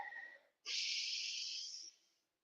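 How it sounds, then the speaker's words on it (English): A breath during a breathing exercise: a soft airy exhale fades to silence, then a strong, close, hissing deep inhalation holds steady for over a second before stopping abruptly. "Take a deep breath in."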